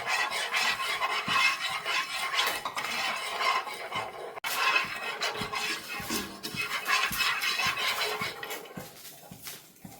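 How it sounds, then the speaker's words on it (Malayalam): Spoon stirring and scraping sugar as it melts in a pan for green grape halwa; continuous close rasping and scraping with occasional metallic knocks, steady and moderately loud, with no talk. "ഇതിനെ നമ്മളിങ്ങനെ ഇളക്കിക്കൊണ്ടേ നിൽക്കണം അതിനെ മെൽറ്റ് ചെയ്യാം"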